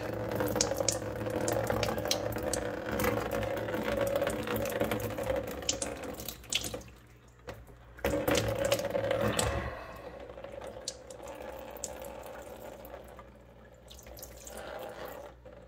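Water from a basement fountain pump pours and splashes steadily, with a brief dip in the flow midway before it resumes and settles into a lighter trickle, no voices present.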